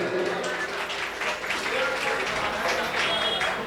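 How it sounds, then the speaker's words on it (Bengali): An audience at an inauguration ceremony for Gajan, jatra and baul troupes claps together in sustained, dense applause that stays steady and fairly loud throughout, with a faint murmur of voices mixed in. "সবাই একটু জোরে করতালি হয়ে যাও।"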